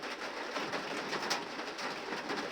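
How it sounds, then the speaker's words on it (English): Steady rain falling outdoors, a continuous broadband hiss with faint pattering, constant in level throughout and heard alone with no talking. "sorry, it's raining now."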